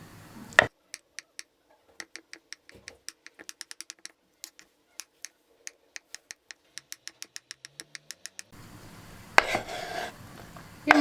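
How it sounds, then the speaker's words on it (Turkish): A knife taps rapidly and steadily on a cutting board, dozens of sharp close chops in a quick rhythm as boiled eggs are chopped, followed by some rustling. "Şimdi de yumurtalarımızı doğrayalım."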